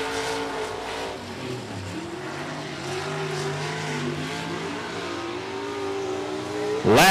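Street stock race cars circle the oval at 105 Speedway, a steady blended engine drone with shifting harmonics as the pack passes, swelling into a louder close pass at the very end.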